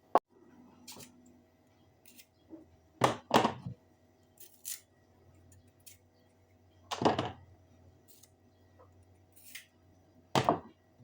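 A few sharp knife chops through a cucumber on a board, separated by pauses, with a faint quiet hum in the background.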